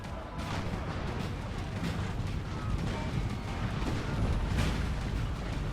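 Artillery from a battery of 6-pounder cannons in the Napoleon Total War game, a dense, continuous rumble of overlapping booms and blasts without clear gaps between shots.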